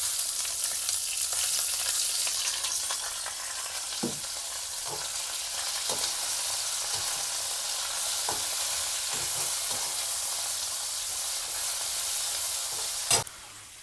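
Garlic and ginger frying in a pan for macaroni, giving a steady close sizzle throughout with a few soft stirring clinks and one sharp knock near the end.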